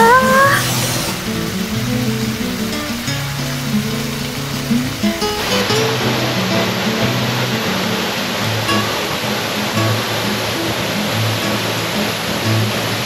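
Hossawa waterfall in Hinohara village, Tokyo, pours as a dense, steady roar of falling water, with faint music and tonal sounds layered over the opening half.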